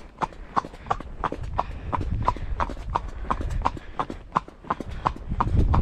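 A horse trots along a small road, hooves clopping in a steady quick two-beat rhythm, close and clear over low wind rumble.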